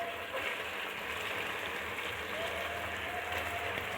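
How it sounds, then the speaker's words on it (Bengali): About one and a half cups of onions fry in a pan with a faint, even crackling sizzle like light rain, constant and low in level throughout. "এখন পেঁয়াজটাকে ভালোভাবে ভেজে নিব।"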